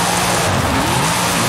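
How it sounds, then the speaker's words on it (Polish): A Wuling Sunshine S van with a supercharged engine spins its wheels, loud broadband engine roar and tire squeal held steady and close throughout. "cały czas boksuje tymi kołami"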